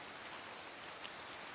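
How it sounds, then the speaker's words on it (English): Rain streams down in a steady, even hiss of dense patter, continuous and moderately quiet with no voices. "as the rain streamed down"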